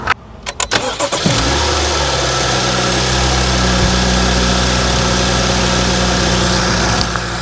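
A Mercedes GL engine cranks for a second with a few sharp turns, catches, and settles into a loud, steady close-up idle with a constant low hum.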